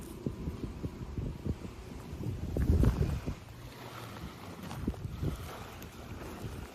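Breezy wind rushes past the microphone at a lakeside campground on Kerr Lake, a steady low rumble with soft thumps and one stronger gust swelling midway, with no voices over it.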